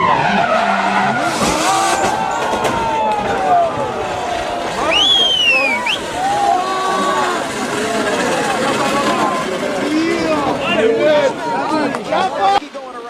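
NASCAR race cars skid and crash across the track in a multi-car pileup, with loud tire squeals and screeching sweeping through the clip over a roaring engine and crowd din, while a commentator's voice runs continuously throughout.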